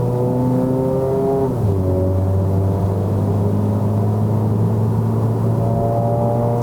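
A Mazda 3 BP 2.0L liftback accelerating in Sport mode, its engine droning loud and steady from inside the cabin, pitch climbing through a gear then dropping at a shift before rising again.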